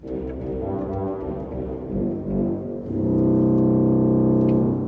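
A loud, low, sustained organ note, buzzy and steady, swelling louder partway through and holding to the end with no voices.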